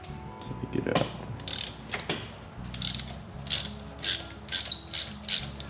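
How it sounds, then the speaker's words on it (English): A ratchet-type spark plug tool backs a spark plug out of the cylinder head of a BMW B58 engine, making a series of sharp, close metallic ratcheting clicks in an uneven rhythm that grows more regular toward the end. "take your spark plug tool, put it into the cylinder head, make sure that's firm on there."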